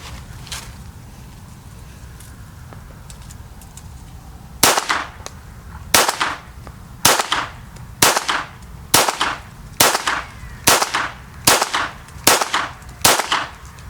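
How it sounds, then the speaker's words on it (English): A heavy handgun fires ten shots at a steady pace, each a sharp, loud crack close by, following a quiet stretch of faint ambient noise. "Well, 10 shots went nice and smooth."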